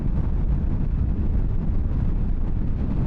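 Steady, loud wind roar buffets the microphone while a 2022 Harley-Davidson Sportster Iron 883, a motorcycle with no wind protection, cruises at interstate speed, broadband rushing noise continuous throughout with no talking.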